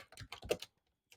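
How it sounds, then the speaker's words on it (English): Typing on a computer keyboard: a quick burst of clustered key taps up close, then a pause and one last short clatter of keys. "I just type in, can you create"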